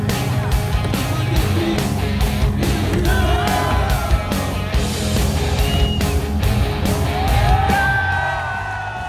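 Crowd at a Vans skateboarding contest in Milan yelling and whooping without pause, a loud, dense roar with shouts rising above it throughout.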